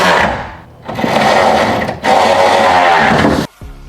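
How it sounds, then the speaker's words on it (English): A power driver fitted with a T55 socket tightens bolts on a Toyota Tacoma truck bed, giving three close, loud whirring bursts that run almost back to back before stopping abruptly. "let's take a T55 socket and tighten these up on the bed."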